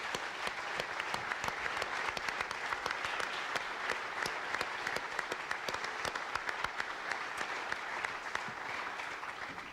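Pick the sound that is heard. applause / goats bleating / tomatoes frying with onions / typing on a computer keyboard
applause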